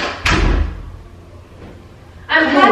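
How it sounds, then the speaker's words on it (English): A door closes indoors with a single firm thud, followed by quiet room tone and then rustling and movement; a person speaks nearby. "Can you close the door, please?"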